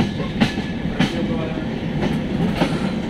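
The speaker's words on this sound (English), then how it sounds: "Our train is getting into the platform number 2." A passenger train pulls into platform 2 at Gaya Junction, with steady rolling rumble, rhythmic wheel clicks over rail joints and occasional soft thumps, heard from on board with faint voices in the background.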